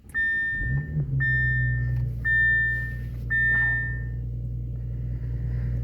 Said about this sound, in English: which is my seatbelt light, which is correct. I am not wearing my seatbelt. So, and it's beeping at me for it